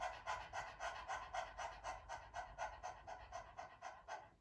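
A person imitates dog panting as a breathing exercise for singers, with a quick, even series of about fifteen breathy huffs, close and alone.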